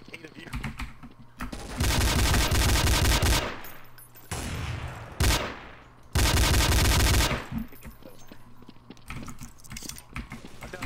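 Desert Eagle pistols fire in Counter-Strike: Source, with dense bursts of rapid shots in two long loud stretches plus scattered single cracks, mixed with game noise and brief talk.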